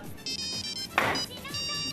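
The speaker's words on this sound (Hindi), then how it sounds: "अबे फोन उठाना यार।" Phone ringtone rings in a repeating electronic melody, loud and close, with a brief thump midway through the ringing.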